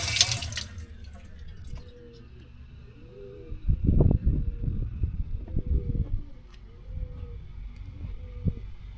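Water splashes and trickles from a stone fountain at the entrance of a historic caravanserai, with bursts of running water, a few drips, and birds calling faintly outdoors.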